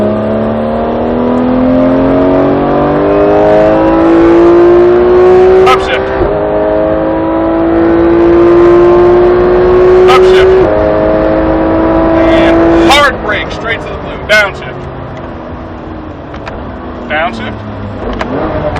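A car on a driving course accelerates hard, its engine rising in pitch through several gear changes with brief shift breaks, loud and close while an instructor talks over it throughout.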